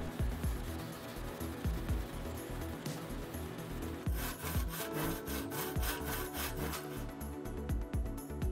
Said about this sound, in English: I used some abrasives on the copper to clean it up before permanently attaching it to the handle.